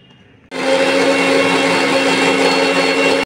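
An electric blender grinds tomato, garlic and green chili into a paste for a spicy crab dish. It starts abruptly after a short quiet moment, then runs as a loud, steady, close whir alone until the end.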